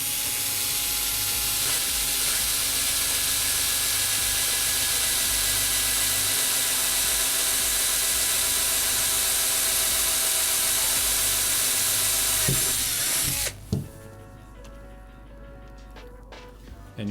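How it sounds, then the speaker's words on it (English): A drill bores through aluminum while installing a carbon fiber bass neck, giving a loud continuous whine for about thirteen seconds that then cuts out, followed by a few light clicks. "And now what I'm gonna do is drill all the way."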